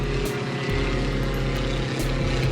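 A light propeller aircraft from a flying school drones steadily overhead, a continuous engine hum with a low harmonic buzz that holds level and fairly loud for the whole stretch, with no talking.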